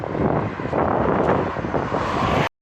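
Wind gusts over a microphone while someone walks along a London street, a loud, continuous rumbling roar that cuts off abruptly near the end.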